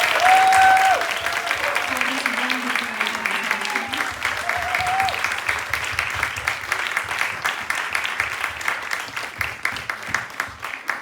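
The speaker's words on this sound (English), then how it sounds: "Let's give a grand applause for our panelists." Sustained audience applause for panelists at a history talk on the Amsterdam ballroom scene, a long even roar of clapping from a crowd, with cheers and some voices over it early on.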